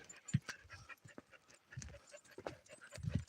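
Dog at a ranch cabin rental giving a few short barks and yips spread across the moment, fairly close, with breathy panting and faint hoof-like clatter between them.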